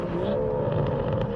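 BMW M140i engine revving and accelerating, a sustained tonal exhaust drone that rises in pitch, with a few faint pops and crackles near the end; no speech.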